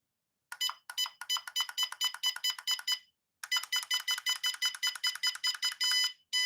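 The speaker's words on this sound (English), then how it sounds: "when you hear that long beep, I think that means it's centered" Electronic beeps from a new FMS remote-control car as its steering is centered, a fast run of short chirps that pauses briefly, resumes, then ends in one long sustained beep, clear and alone.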